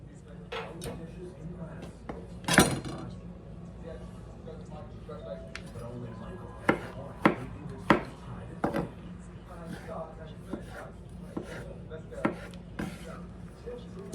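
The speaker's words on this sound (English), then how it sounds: "then we're just gonna keep chopping, try to get them all uniform in size" Knife chopping tomatoes for salsa on a board, a steady run of soft close taps with a few sharper knocks, under ongoing talk.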